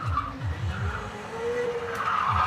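A Formula Student race car at an autocross event skids in oversteer, its tires squealing and scrubbing over a droning engine, loud and close, without talking.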